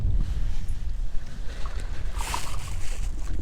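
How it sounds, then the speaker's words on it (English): Paddling a Bonafide RS 117 kayak on Guntersville in late April, with close splashes and water swishes in irregular strokes over wind rumble against the microphone, with no talking. "I'm gonna do a lot of paddling and changing"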